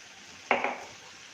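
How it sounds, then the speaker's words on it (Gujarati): A clink of a metal spoon against a pan while spice masala is stirred in oil, two quick close knocks and then a short fading scrape, with no talking. "મસાલાને પણ એકદમ સરસ તેલ છૂટું પડે ત્યાં સુધી મિક્સ કરી લેશું."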